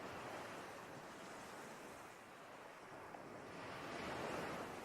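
Steady sea waves wash continuously onto a beach, a broad, even roar of surf with some wind noise on the microphone and a gentle swell in loudness near the end.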